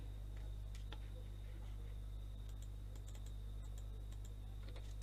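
Quiet, close keystrokes on a computer keyboard as a shell script is typed, irregular taps in short bursts over a steady low electrical hum, no voices.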